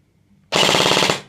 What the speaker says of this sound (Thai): นี่รัวครับหลายนัดหน่อย อประมาณเกือบสิบนัด